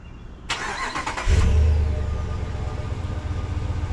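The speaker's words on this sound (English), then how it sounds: "Let me see if I can remote start that bad boy for you." A RAM 1500 pickup with a V8 Hemi starting remotely: a click-like onset, then the engine catches with a brief low rumble and settles into a steady, fairly quiet idle close by.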